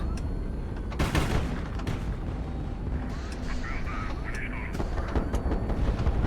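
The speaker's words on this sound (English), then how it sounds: "Let's maybe launch some of our missiles at this fearsome." Missile launches and gunfire ring out during a ship battle in the HighFleet video game, with loud booming blasts and sustained rumbling fire, plus a few whistling streaks, while a voice talks over the action.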